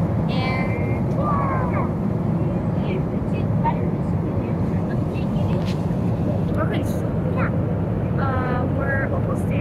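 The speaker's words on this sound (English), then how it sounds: "we're just on the plane right now," A constant, loud low roar of airplane cabin noise fills the clip, with people talking over it.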